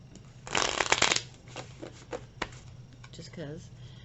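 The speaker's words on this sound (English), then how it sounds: "Shuffle again" A quick riffle of a deck of playing cards being shuffled, a dense papery flutter, followed by a few softer taps and handling sounds.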